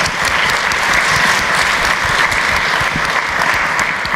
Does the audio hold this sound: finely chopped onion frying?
no